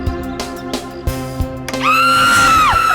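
A woman lets out a loud, piercing, sustained scream that rises and then drops off, preceded by a series of rhythmic low thumps, in a dramatic scene with no speech.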